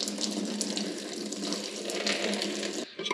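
Coolant splashes out of a Ford 351W 5.8L V8 as a cylinder head is popped loose, a steady watery trickle and splatter throughout that cuts off abruptly near the end.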